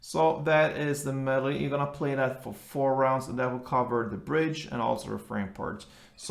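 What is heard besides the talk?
No everyday noise stands out behind the speech.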